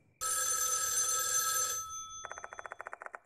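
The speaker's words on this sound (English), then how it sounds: "Out of the blue, my phone rings." A telephone rings in the horror game Death Mark 2: a long sustained electronic bell tone, then a rapid run of pulsing trills, loud and close with no voices.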